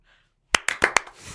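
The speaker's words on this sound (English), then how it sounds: "We should applaud him in an appropriate manner." Four sharp hand claps land in quick succession after a brief near-silence, close and dry, from podcast hosts applauding.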